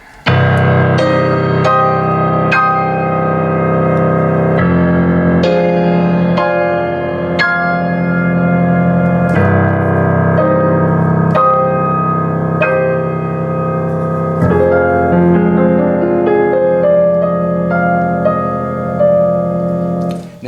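Concert Grand piano voice from a Yamaha CVP605 Clavinova digital piano, picked up by a camcorder microphone through its own speakers, plays continuous chords and melody with repeated struck-note attacks and sustained harmonic ringing, with no talking.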